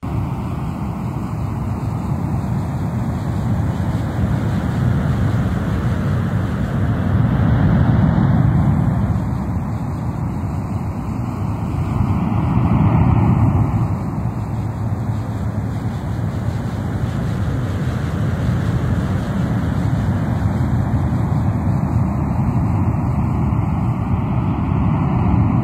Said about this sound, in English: As you listen to the sound of ocean surf